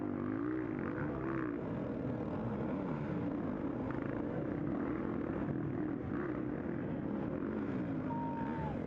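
Several 125cc dirt bike engines rev and drone continuously at a distance during a GNCC off-road race, pitches rising and falling as riders open the throttle.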